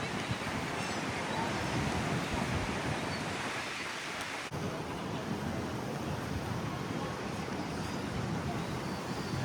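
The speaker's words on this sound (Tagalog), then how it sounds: "Ayan, ang laki ng alon. Tapos mahangin pa." Heavy surf and gusty wind at Surfers Paradise beach make a steady, dense roar that stays constant throughout, with wind buffeting the microphone and no clear voices.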